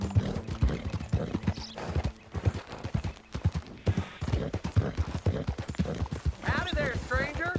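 Horse hooves clip-clop steadily in the Red Dead Redemption 2 video game, a close, rhythmic run of hoof strikes heard under people talking, with a horse whinnying near the end.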